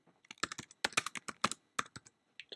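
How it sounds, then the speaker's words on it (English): Fast, irregular typing on a computer keyboard while entering a band name into a music database search, a close series of crisp key clicks with short pauses and no talk. "Type it in there."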